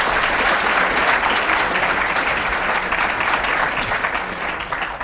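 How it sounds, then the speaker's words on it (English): An audience at a blockchain conference panel gives sustained applause for the panelists, a dense wash of clapping that fades slightly toward the end. "Please give them another round of applause."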